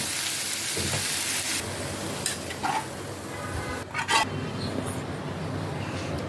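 Fried ivy gourd (kudli) is stirred in a hot pan with a spatula, making scraping and clattering strokes over a soft frying hiss, with a couple of sharper metal scrapes.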